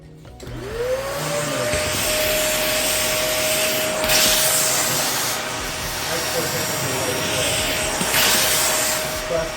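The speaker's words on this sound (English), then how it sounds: "the other option is to use a vacuum" Vacuum cleaner running steadily over living room floorboards, a loud whining hiss whose motor pitch rises at start-up and then holds, with rubbing surges as the nozzle is pushed along.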